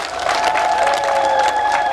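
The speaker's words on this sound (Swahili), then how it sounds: "naomba mumpigie makofi mengi sana." An outdoor crowd at a public ceremony claps throughout, a dense, steady applause with a sustained tone running beneath it.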